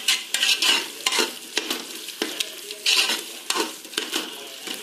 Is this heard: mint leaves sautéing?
yes